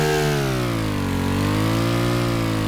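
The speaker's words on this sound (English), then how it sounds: "This is the engine." A small modular engine built in Stormworks runs at a steady drone, a continuous harmonic hum with slight pitch wavering and no other sounds.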